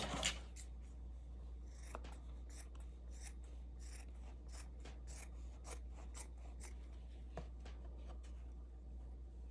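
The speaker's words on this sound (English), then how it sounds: "And I just lay this down on the batting and cut around." Scissors snip through quilt batting in a steady series of short, soft cuts, close up with light rustling between strokes over a faint low hum, and no one talking.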